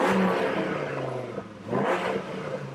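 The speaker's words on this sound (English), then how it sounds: "Listen to the exhaust." A Dodge Viper GTS Final Edition V10 engine revs up loudly, its exhaust rising and falling in a throaty roar, then blipping again near the end; no one speaks.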